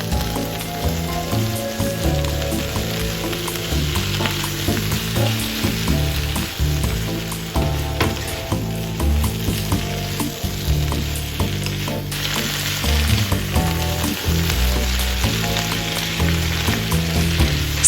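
Bok choy and onion crackle and sizzle hard in a hot wok, a dense continuous frying roar with stirring scrapes, heard alone at close range throughout.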